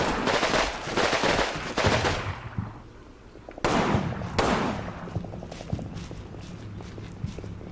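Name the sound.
gunfire in the video game Combat Mission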